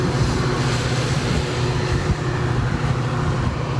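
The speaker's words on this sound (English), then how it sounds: "There's a train, it's kind of loud" A train rumbles past close by, a loud, continuous low roar with steady mechanical droning that holds for the whole stretch.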